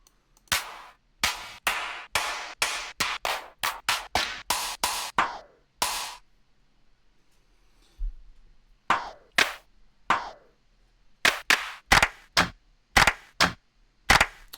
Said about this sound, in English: in that third loop we introduce a clap